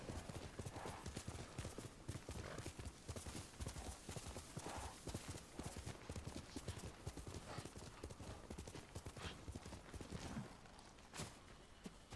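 Rapid, rhythmic hoofbeats of a galloping horse in the video game Ghost of Tsushima continue steadily throughout, with a faint whinny near the end; the sound is fairly quiet overall.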